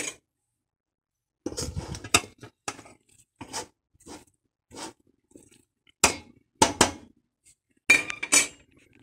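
Salt being stirred into fresh farmer's cheese curds in a bowl, heard as a string of sharp utensil clinks and scrapes against the dish in irregular bursts separated by brief pauses, close and without talk.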